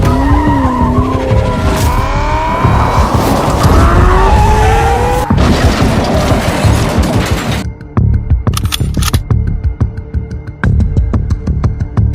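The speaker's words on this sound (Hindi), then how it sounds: "गाड़ी का साउंड आ रहा है और लेट्स गो। अपनी गाड़ी, अपनी फरारी यहाँ पर आ चुकी है।" Ferrari sports car in GTA 5 roars at close range with rising engine revs and long squealing tire skids, then cuts to sharp intermittent crashes and bursts over a steady engine drone.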